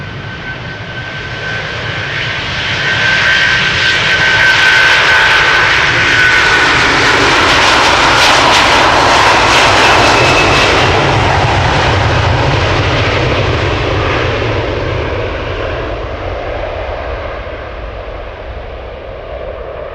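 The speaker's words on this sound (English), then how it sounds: "Air Canada flight 809 to Toronto in Canada." An Air Canada jet airliner on flight 809 to Toronto takes off from Amsterdam Schiphol nearby: a loud, rising engine roar with a thin whine at first, peaking midway and then slowly fading into the distance.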